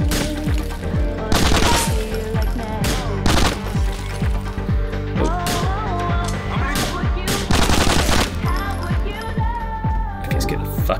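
Bursts of automatic and single-shot gunfire ring out in a nightclub shootout in Grand Theft Auto IV: The Ballad of Gay Tony, loud and repeated across the whole stretch, with music and brief voices mixed underneath.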